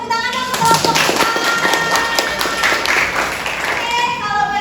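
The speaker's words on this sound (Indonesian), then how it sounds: "Oke, tepuk tangan dong untuk kelompok kita." A classroom of students applauding a group, dense, lively clapping throughout, close and fairly loud, with voices mixed in under the claps.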